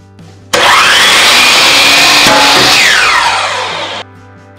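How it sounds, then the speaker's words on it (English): Miter saw blade spinning up and tearing through a small piece of MDF board, a loud close continuous high whine with a sharp crack midway, then the motor winding down. "it totally destroys a small piece of MDF board or wood that you try to cut"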